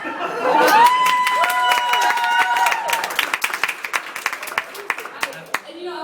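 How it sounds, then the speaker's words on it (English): A comedy show crowd cheers and whoops at first, then settles into scattered, distinct claps from many hands, with voices mixed into the early cheering. "Clap"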